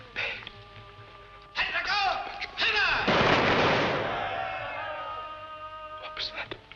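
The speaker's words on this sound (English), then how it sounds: "Firing squad. It's execution day." A firing squad volley in a 1953 comedy film scene: sharp gunfire bursts crackle over music, building to a loud sustained blast and rumble that slowly fades, with a brief flurry near the end.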